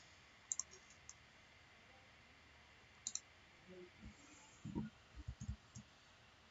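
Computer mouse clicks at a desk during architectural drawing software work, a few sharp isolated clicks early on, then softer bumps of handling toward the end, quiet and close with no talk.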